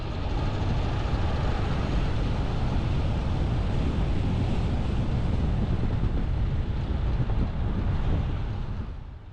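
Steady roaring wind buffets the microphone on the ocean coast at Trinidad, California, a dense continuous rush with faint surf underneath, loud and unbroken for the whole stretch with no voices.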